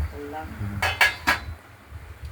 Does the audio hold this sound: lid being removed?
yes